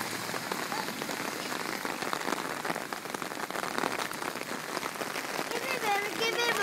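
Steady rain falls outdoors onto the ground and a puddle, a dense continuous patter throughout, with no clear talk over it.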